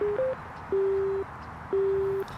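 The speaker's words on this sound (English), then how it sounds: "All right, so first let's turn the speaker on." A TaoTronics Bluetooth transmitter-receiver unit chimes its power-on tone: a short two-note blip followed by two longer steady electronic tones, clear and close in an otherwise quiet room.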